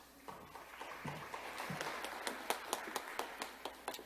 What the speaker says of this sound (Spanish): Por favor, para él, un fuerte aplauso.